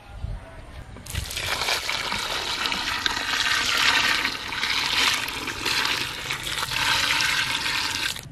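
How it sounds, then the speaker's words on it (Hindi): Water gushes in a loud, steady pour into a cooking pot of mutton after a brief quiet start, with rushing and sloshing continuing throughout. "और अभी हम देखचे में डालेंगे पानी"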